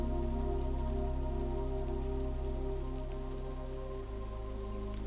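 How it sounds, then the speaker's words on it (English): Rain taps on the small porch roof and eaves of a cabin in the woods, a soft, steady patter heard close with a low continuous hum beneath, unbroken and even from start to finish. "The rain softens above you, tapping gently against the eaves."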